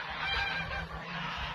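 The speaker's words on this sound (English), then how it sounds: "The geese are quite rowdy over there at the moment." A flock of geese honking rowdily in the distance near a vegetable garden, overlapping calls running continuously through the short stretch.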